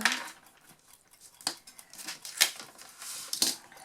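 Scissors snipping paper for a handmade pop-up card, a few separate crisp cuts spaced about a second apart, close and fairly quiet, with no voices.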